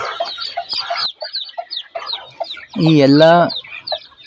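Native hens clucking in woven baskets after hatching, a run of short irregular clucks and squawks, then one loud drawn-out cackle near the end, with a person speaking briefly.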